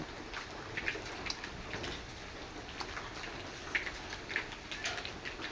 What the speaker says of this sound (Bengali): এর পাশে বৃষ্টি পড়তেছে